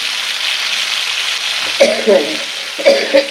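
Chicken sizzles steadily in a pan with spices during a Bengali chicken-and-mung-dal dish, a constant close hiss broken near the end by a few sharper bursts of spatula stirring.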